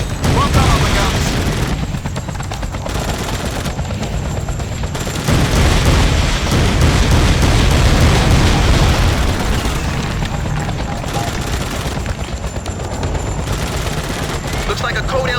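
Heavy gunfire from the military shooter Battlefield 2: Modern Combat, continuous loud machine-gun bursts mixed with booming blasts and rumbling battle noise throughout, with no pause.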